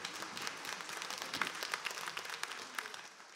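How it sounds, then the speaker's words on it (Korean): A church congregation at a Christmas service applauds, with a brief burst of many hands clapping at moderate distance, fairly quiet and without talk. "하나님께 영광의 박수 올려드립시다."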